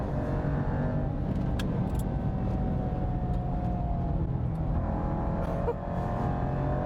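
Inside a Jaguar XE SV Project 8 on hot laps at the Portimao circuit, the engine gives a loud, steady drone that holds throughout with only slight changes.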